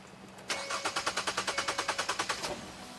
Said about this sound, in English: the engine is gonna crank, but it's not gonna start